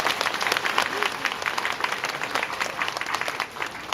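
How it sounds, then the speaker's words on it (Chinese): An audience claps for climbers who reached the summit of Yushan, Taiwan's highest peak, at a temple festival gathering: dense, sustained applause from a crowd, moderately loud and steady throughout. "再给他掌声鼓励一下"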